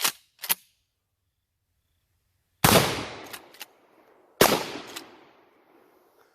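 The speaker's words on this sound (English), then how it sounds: "Let's shoot that milk jug again too" A 12 gauge shotgun firing silicone slugs at a milk jug outdoors: two loud, sharp blasts a couple of seconds apart, each with a long rolling echo and a quick smaller crack after, preceded by brief clicks.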